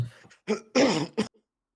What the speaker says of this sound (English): so I got a cough